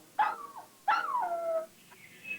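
Two dogs or wolves howl in turn, each call starting with a sharp rising yelp and sliding down into a long wavering tone, the second longer, followed by a faint thin whine at the end.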